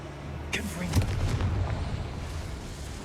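A Confringo spell in the Hogwarts Legacy video game sets off a fiery blast, a burst followed by a low, rumbling explosion that lingers for a couple of seconds, close and fairly loud.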